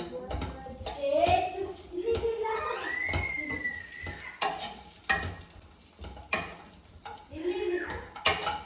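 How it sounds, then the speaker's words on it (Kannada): Dates and figs frying in a pan for dry fruit laddu, with stirring scrapes, occasional utensil knocks against the pan and a low sizzle, while someone talks over it. "ಖರ್ಜೂರ ಮತ್ತು ಅಂಜೀರನ ಫ್ರೈ ಮಾಡ್ಕೊಂಡಿದ್ದೀನಿ."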